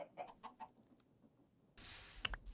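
Blaze chickens in modded Minecraft give a few short clucks, faint and close together, followed by a sudden burst of broadband noise near the end.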